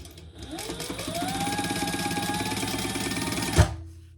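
A sewing machine stitches a phone pouch belt bag, a steady mechanical whir that ramps up and runs evenly for a few seconds before stopping with a sharp clunk.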